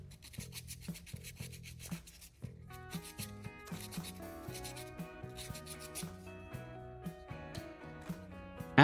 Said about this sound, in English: taking some sandpaper and thoroughly sanding both ends of the battery